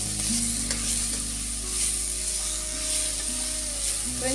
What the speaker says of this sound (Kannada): ಟೊಮೆಟೊನು ಸ್ವಲ್ಪ ಫ್ರೈ ಆಗಬೇಕು